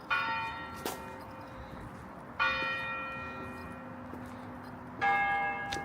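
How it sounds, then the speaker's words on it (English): Church bells ring out over a nighttime Stockholm street, three distinct resonant strikes spaced a couple of seconds apart, each leaving a long humming decay, fairly distant with faint street ambience. "I got some bells."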